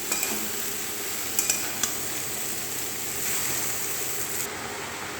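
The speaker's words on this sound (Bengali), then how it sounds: "লাউগুলো দিয়ে নাড়ছি।" Bottle gourd pieces being stirred as they fry in a pan, giving a steady sizzling hiss with a few sharp utensil scrapes and clinks near the start, with no talking.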